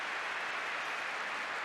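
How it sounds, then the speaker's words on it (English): A football crowd at the Coventry City v Spurs FA Cup Final applauds after a shot, a faint, distant, continuous roar of clapping that carries evenly through the stadium. "And applause all around."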